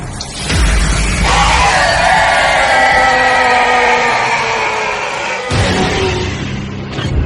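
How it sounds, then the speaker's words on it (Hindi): A long, loud, anguished scream from a horror audio drama set at a church, sustained at full intensity for several seconds before breaking off, with a booming burst at its onset. "वो चीख बंद हुई"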